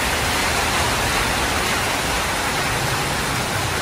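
Heavy monsoon rain pouring down as a dense, steady roar of broadband hiss. The rain is close and loud, with no talk over it.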